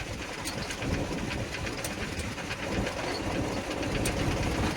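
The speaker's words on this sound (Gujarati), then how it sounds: "હાઇડ્રોલિક પણ ચેક કરી બતાવું," A 2010 Mahindra 295 Super Turbo tractor runs while its hydraulics are worked, making a steady, loud, close engine rumble with a faint rattling clatter throughout and no talking.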